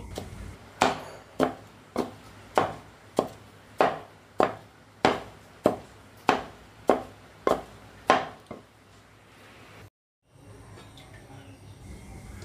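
Ginger being chopped on a cutting board for paste, about a dozen sharp, evenly spaced knife strikes close up that stop abruptly, followed by quiet kitchen background.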